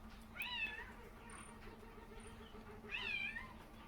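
A cat named Tiger Kitty meows twice, two close, rising-and-falling cries spaced a couple of seconds apart over a quiet indoor hum in a shop.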